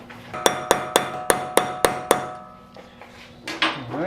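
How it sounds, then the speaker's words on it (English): A hammer hits a punch while working on a half shaft and CV joint of a 2012 MINI, giving seven sharp, evenly spaced metallic blows close by, followed by a few softer knocks and some scraping. "I'm going to try my punch with a real live hammer"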